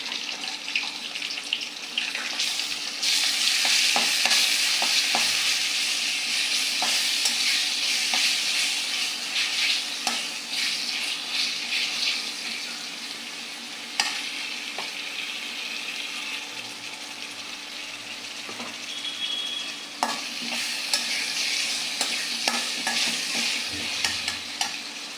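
Onions fried brown sizzle with ginger and garlic paste in a pan, with steady hissing broken by scraping stirs and occasional clinks of a utensil against the pan.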